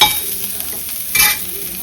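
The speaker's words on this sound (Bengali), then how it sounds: "এই যে পেঁয়াজগুলো ভেজে নেব" Onions frying and being stirred in a pan, a bright close sizzle with scraping stir strokes and a louder burst of spatter partway through.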